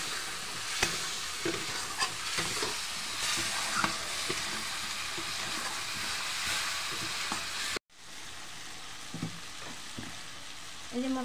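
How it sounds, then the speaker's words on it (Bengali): Spice masala with water being fried and stirred in a pan for desi chicken kosha, with a steady broadband sizzle and scattered spoon scrapes and clinks throughout, briefly cut off before the sizzling resumes. "জল দিয়ে আমি মশলাটা এখন ভালোভাবে আমি কষে নেব।"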